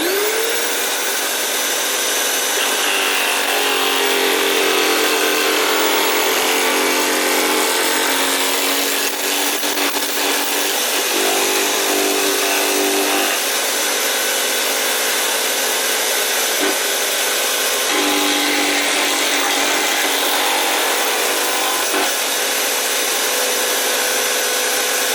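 A table nibbler cuts curves in aluminium sheet for a folded bracket, producing a loud, continuous, harsh buzzing chatter that runs almost unbroken, with a few brief dips and clicks along the way.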